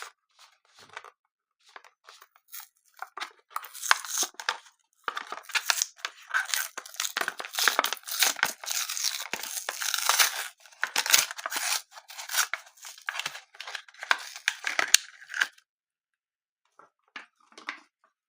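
Hot Wheels diecast car packaging, a blister card, being cut open with scissors, giving close, busy snipping, crinkling and plastic crackle for most of the stretch before it tapers to sparse clicks.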